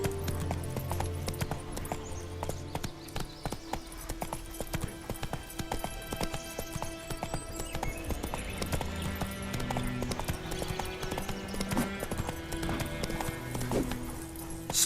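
Hooves of Roach, the horse in the video game The Witcher 3, clip-clopping in a steady brisk rhythm throughout, mixed with faint game ambience and music.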